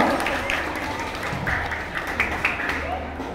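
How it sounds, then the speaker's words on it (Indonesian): Applause for a candidate at a school student council debate, a crowd clapping steadily with voices and cheering mixed in. "Berikan tepuk tangan yang meriah untuk kandidat calon nomor urut 2"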